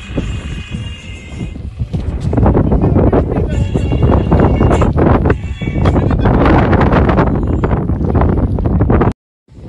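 Cold wind blows across the White Desert of the Rann of Kutch, loud gusty roaring buffeting the microphone, building and staying strong before cutting off abruptly, with people talking at times.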